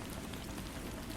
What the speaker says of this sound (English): The gentle patter of rain on the metal roof provided a soothing accompaniment